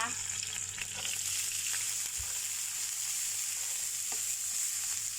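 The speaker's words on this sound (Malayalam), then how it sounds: "ഇഞ്ചി ഇട്ട് നല്ലതായിട്ട് ഇളക്കുക" Chopped ginger sizzling in oil in a pan as it is stirred, giving a steady loud hiss with occasional soft scrapes and no talking.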